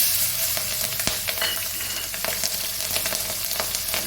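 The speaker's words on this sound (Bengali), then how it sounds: "তেলের মধ্যে দিয়ে দিলাম একটু কালো জিরে, একটা শুকনো লঙ্কা আর কাঁচা লঙ্কা চেরা" Black cumin seeds, a dried red chilli and slit green chillies sizzle loudly in hot oil, a close, continuous frying hiss dotted with sharp crackles and pops, with no voices.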